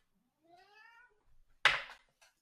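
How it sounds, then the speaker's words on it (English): An older cat meows once in a drawn-out rising call, then gives a sharper, louder yowl moments later, heard close and alone in a quiet room. "say hi to Mr. Senior Kitty, who's insisting on making a lot of noise right now"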